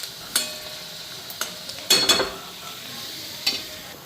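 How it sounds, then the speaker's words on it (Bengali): Potatoes frying in oil with a cumin seed tempering, a close, steady sizzle broken by several sharp scraping stirs of a spatula against the pan. "এটার মধ্যে জিরা ফোড়ন দিব"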